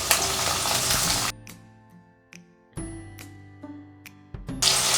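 Garlic and chopped onion sizzle in hot oil in a pan, a dense crackling hiss that cuts off, leaving sparse clinks and light utensil taps before the loud frying noise returns at the end.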